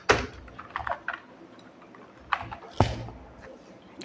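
Keys on a computer keyboard click in short, scattered bursts as HTML code is typed, close-miked and sharp, with quiet gaps between the keystrokes and no voice.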